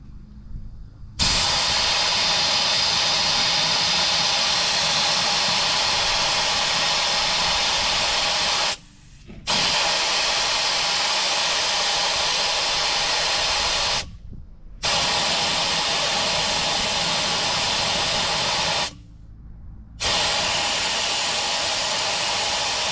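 Air hisses loudly and steadily out of a tyre valve during deflation, a continuous close rush broken by three short pauses and then resuming.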